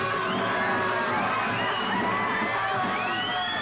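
A crowd gathered in a city street in 1967 as police arrive makes a dense, continuous roar of overlapping shouts and cheers, loud and unbroken throughout.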